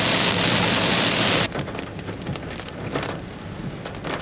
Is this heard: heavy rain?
yes